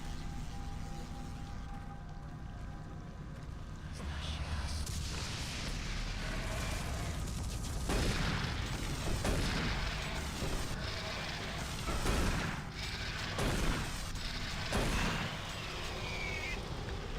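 Shotgun blasts in Doom 3 aimed at a Pinky demon, a string of separate loud booming shots spaced a second or two apart over game noise.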